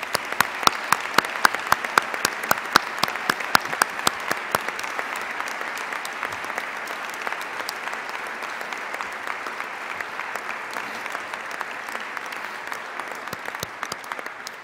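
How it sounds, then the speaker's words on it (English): Steady audience applause at a development center announcement, dense clapping from a sizeable crowd sustained for the whole stretch, loud at first and then settling to an even level with no talk. "Let's give them all a round of applause."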